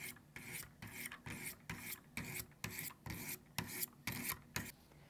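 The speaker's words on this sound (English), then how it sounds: "Using my edge leading strokes and my 200 grit, I am going to do my walks down the length" A WE66 Obsidian knife blade is drawn edge-leading across a 200 grit sharpening stone: about a dozen steady, evenly spaced rasping strokes, close and clear, with no talking.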